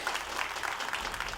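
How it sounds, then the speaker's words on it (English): A live crowd at an esports finals applauding and cheering, a dense, steady wash of clapping and voices heard at a distance with no break. "we can hear the crowd even here cheering"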